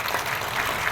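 A church congregation claps together in a brief, dense burst of many hands, steady and roomy for under a second with no talk over it.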